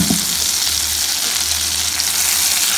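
Ginger chutney tipped into a hot kadai with the stove switched off gives a loud, steady sizzle from start to finish, opening with a soft thump.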